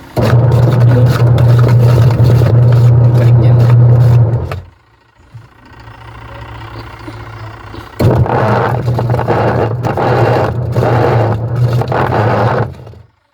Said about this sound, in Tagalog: Pag ganito, gearbox to ang sira, maingay.